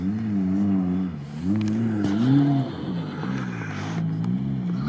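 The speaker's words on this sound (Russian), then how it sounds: "Слышен звук боевой Chevrolet Нивы." A Chevrolet Niva off-road vehicle climbing a slope at an off-road event, its engine droning and rising and falling in pitch as it revs, moderately close and continuous.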